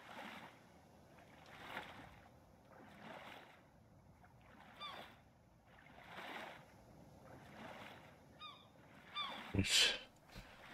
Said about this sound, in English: Pesky seagulls.